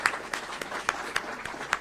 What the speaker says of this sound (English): That's worth a round of applause right there.